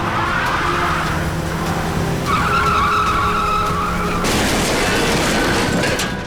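A car drives fast and skids, its tires squealing in a long sustained screech that gives way to a broad rushing roar, in a police crime drama chase scene.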